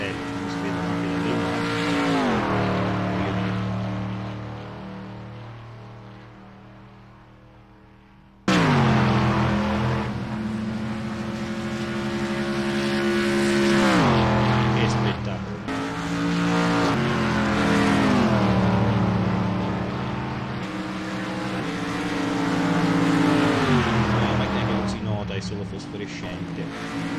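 Supercar engines in a racing video game at an Indianapolis circuit, loud sustained roaring with repeated rising revs and gear shifts, a sudden cut midway, continuing for the whole stretch.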